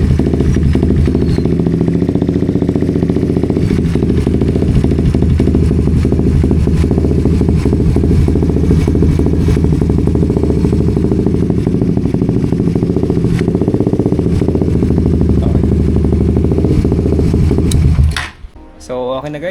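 A Suzuki GSX 150 motorcycle engine, just fitted with a new fuel filter, idles loudly and steadily with a dense mechanical clatter for most of the stretch, then cuts off abruptly near the end.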